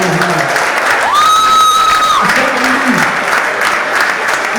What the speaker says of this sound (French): les applaudissements pour Monsieur Roger.